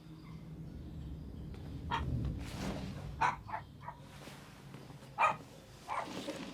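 Dog barking inside the video game Detroit: Become Human, several short barks spaced irregularly over a low ambient game background, moderately clear but not loud.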